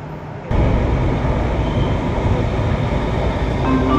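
An LRT train runs on the Baclaran line extension toward Dr. Santos station, a loud, steady rumble and rush that begins abruptly and continues close by, with faint high tones near the end.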